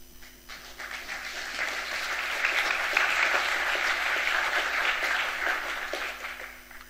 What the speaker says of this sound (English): Give Scott some clapping